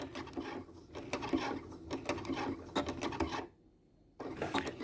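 A sewing machine runs in quick rhythmic bursts, stitching a zigzag seam on a skirt, with close mechanical needle clatter that pauses briefly near the end before starting again.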